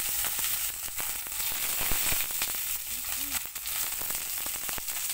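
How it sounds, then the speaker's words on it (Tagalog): Okra, lady's fingers, frying in hot oil: close, dense crackling and popping with sharp spatters scattered throughout, steady and loud. "First time natin iprito ng okra."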